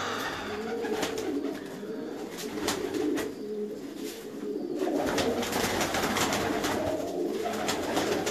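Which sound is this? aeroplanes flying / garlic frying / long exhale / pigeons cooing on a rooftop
pigeons cooing on a rooftop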